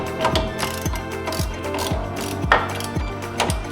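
A ratchet loosening lower control arm bolts on a crashed Lamborghini Gallardo gives steady, close, rapid clicking strokes in a regular rhythm, with no talking.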